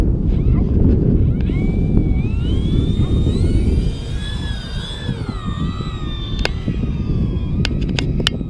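A small aircraft's engine roars loud and steady during takeoff on its maiden flight, with a whining pitch that rises and wavers, buffeting wind noise and a few sharp clicks.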